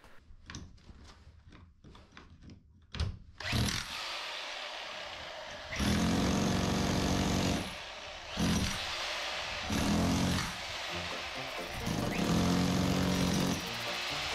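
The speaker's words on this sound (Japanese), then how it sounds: "庭で固まる土を施工している時に勢いで買ってしまった発力電動ハンマー、久々の出番です" An electric chipping hammer breaks up old concrete blocks and stones, a loud continuous hammering roar in long bursts with brief pauses, preceded by a few sharp knocks and clatters.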